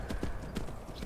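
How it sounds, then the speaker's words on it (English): Horse hooves clip-clop steadily in the video game Skyrim, a rhythmic series of thudding steps over a dense background of game ambience. "get back on your horses"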